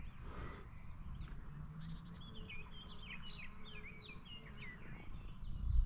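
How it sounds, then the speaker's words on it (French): Small birds sing outdoors on a mountainside, faint scattered chirps and quick trills drifting from a distance over a low outdoor rumble. "Vous entendez les oiseaux?"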